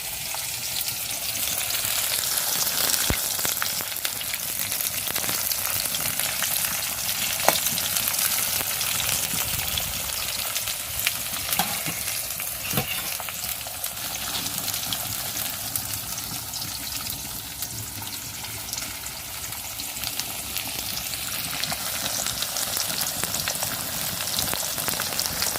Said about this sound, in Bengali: আগে কাঁকড়াগুলো ভেজে নিচ্ছি।